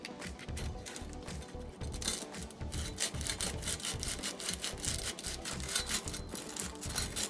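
Sandpaper worked by hand through holes in a carbon bike frame, a continuous close rasping scrub with quick back-and-forth strokes in a steady rhythm, heard alone.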